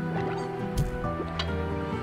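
Chickens cluck in the Slime Rancher video game, a busy murmur of soft clucks and calls over a steady tonal game background, with a couple of faint clicks.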